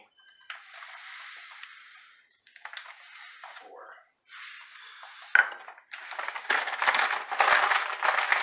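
Brown sugar and regular sugar are stirred together in a bowl, producing intermittent scraping and gritty swishing in bursts with pauses, louder toward the end, with some talk mixed in.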